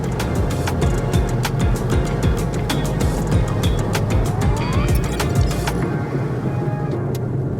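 A car drives along a straight desert highway in Africa with a steady, loud engine and road roar close to the listener, broken by frequent clicks and knocks, with no one talking.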